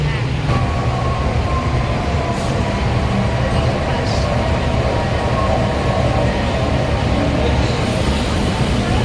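Steady loud rumble and rattle of a moving Kolkata metro train, continuous throughout with faint voices underneath.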